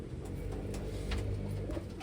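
Pigeons coo in low, soft, continuous murmurs close by as their box is opened, a steady warm rumble with faint higher rustles.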